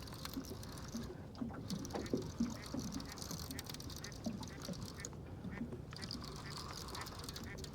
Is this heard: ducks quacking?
yes